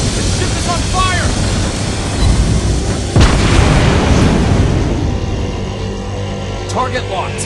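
Booming explosions and gunfire of naval combat in the World of Warships Blitz game, one heavy blast standing out amid a dense rumbling barrage, with game voices speaking over it.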